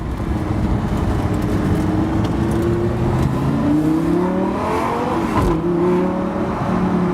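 A Lamborghini Gallardo LP550-2 engine roars and revs, its pitch climbing and falling, with a sharp throttle blip as it downshifts midway.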